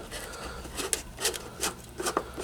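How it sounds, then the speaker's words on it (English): Small screws being worked out of a Telefunken satellite speaker: faint, close scraping and rubbing with a few soft clicks, over a quiet steady hum. "let's just get these screws off"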